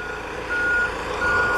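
A forklift at a boatyard sounds loud, regular reversing beeps close by while lifting a houseboat, with a low engine hum underneath.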